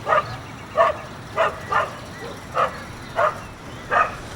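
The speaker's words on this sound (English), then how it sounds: "Or maybe if that dog stopped barking." A dog barks in a steady series of about seven sharp, evenly spaced woofs, fairly close, over a low outdoor rumble near a hot air balloon site on the Gold Coast.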